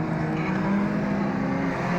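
Streetstock race cars, including a big rear-wheel-drive Commodore, roaring through turns 3 and 4 at Beachlands Speedway, a loud sustained engine drone with steady tonal hum and no talking.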